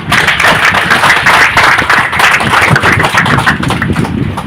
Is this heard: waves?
no